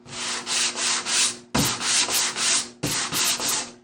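Rhythmic back-and-forth strokes of sandpaper on a painted craft surface, close and loud, in three continuous runs separated by brief pauses.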